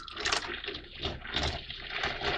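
Hot water poured from a coffee maker carafe into a container of brass rifle cases, a continuous close splashing, gurgling stream, fairly quiet and with no talk.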